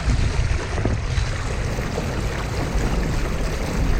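Kayak powered by an 1100 watt Torqeedo electric motor, a steady dense rush of water and wind noise under way on open water, loud and close, with no talking.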